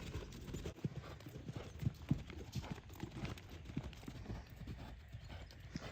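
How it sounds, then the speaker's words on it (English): Hooves of a ridden horse on a horse farm performing a lead change, a close, steady rhythmic clip-clop of footfalls with occasional heavier thuds and no voices. "Good lead change, little Indiana"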